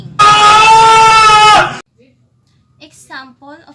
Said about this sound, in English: Next, screaming.